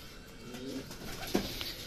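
Racing pigeons coo softly from a loft, with a few low, throaty coos and a faint chirp over a steady background hum.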